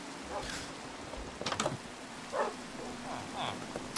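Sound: rain falling in the video game Minecraft

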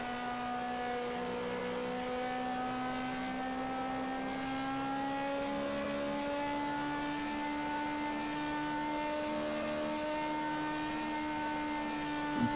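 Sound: car accelerating during a video game speed test

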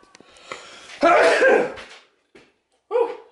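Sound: sneeze

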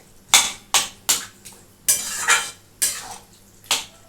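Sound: stir-frying mutton keema in pan

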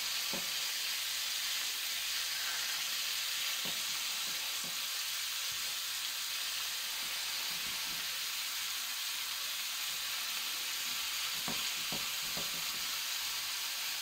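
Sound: meat searing in a hot pan

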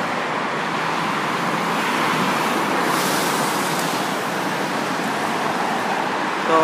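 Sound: cars passing on a busy road at a traffic light

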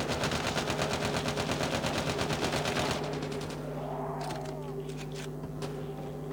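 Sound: gunfire in video game Call of Duty zombies

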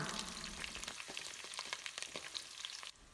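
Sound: fenugreek and slit green chilies stirred while frying in oil

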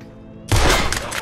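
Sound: gunshots fired at the chains, likely in a video game

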